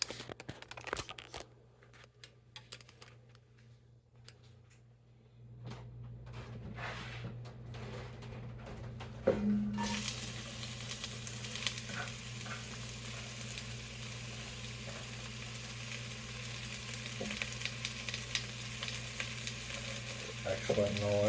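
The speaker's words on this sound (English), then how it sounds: "Okay, we have our onions all done. Let's get them into the Dutch oven." Chopped onions hitting a hot Dutch oven, with quiet handling and rustling at first, then a sudden loud, steady sizzle of frying that continues close and dense.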